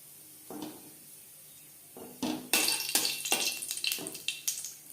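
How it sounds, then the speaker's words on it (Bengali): Whole cumin seeds hit hot refined oil in a pan, giving a close sizzle and crackle in short bursts, with a few scrapes and utensil knocks. "4 চামচ রিফাইন্ড অয়েল গরম করে নেওয়ার পর দিয়ে দিলাম 1/2 চা চামচ গোটা জিরে"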